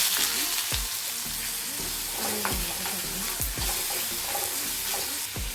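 Sliced onions sizzle and crackle in hot oil with mustard seeds, ginger and fennel, a loud, steady frying hiss broken by repeated stirring scrapes and clacks of a utensil in the pan.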